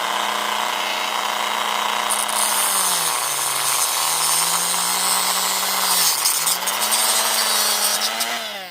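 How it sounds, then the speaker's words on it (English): A Dremel rotary tool fitted with a metal cutting blade slices through plastic on a 1/24 Jada diecast model car, whining steadily and loudly throughout, its pitch sagging and rising as the blade loads and frees up, with no talking. "So I'm gonna take my same Dremel tool. Still got my metal blade on there, but it still cut through this plastic."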